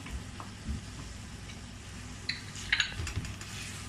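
Içli köfte filling with walnuts and parsley is stirred in a pan, giving a soft continuous sizzle and scraping with a few faint utensil taps against the pan, close and steady.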